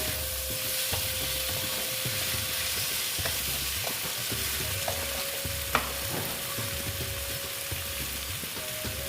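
Pumpkin and egg sautéing in a pan give a steady close sizzle under repeated scraping stir strokes, with one sharper clack partway through and no talking.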